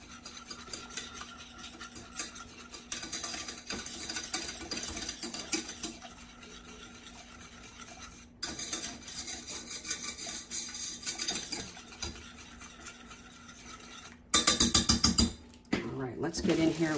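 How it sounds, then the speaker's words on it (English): A whisk stirs leave-in hair conditioner made with rice ceramides and protein in a container, giving steady scraping and rubbing strokes throughout, with a louder clattering burst near the end. "And we'll start whisking this together."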